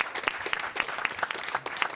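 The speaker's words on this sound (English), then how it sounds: "It's a round of applause for all of you as well." A studio crowd at a charity livestream marathon applauds steadily, dense clapping filling the whole stretch at a lively, even level with no talking over it.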